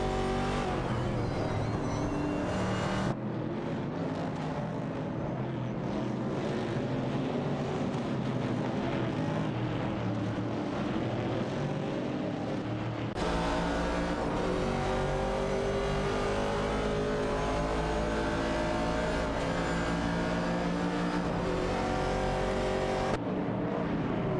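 Race cars including a Ford Falcon and Mercury Cougars battle in a racing video game, engines droning and revving continuously with shifting pitch and a few gear changes, loud and close with no talk.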